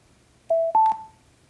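BenQ treVolo S electrostatic portable speaker entering Bluetooth pairing mode, emitting two short rising electronic tones in quick succession, clear and close in a quiet room.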